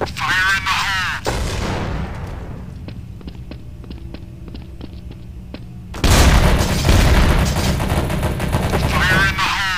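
A grenade in Counter-Strike: Source goes off about two-thirds through as a sudden loud, close blast with a long roaring tail, after sparse faint ticks and an earlier burst of noise, with voices talking around it.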